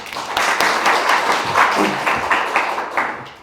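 Short burst of clapping from a small group at a university memorial lecture-room unveiling ceremony, quick overlapping claps that swell and then taper off.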